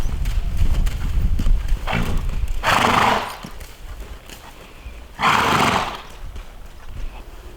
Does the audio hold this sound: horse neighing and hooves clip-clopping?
yes